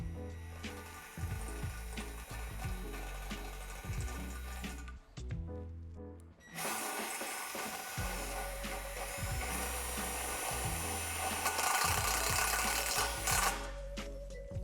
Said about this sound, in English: insert the self-tapping screw into the small hole. The screw is designed to go through the metal underneath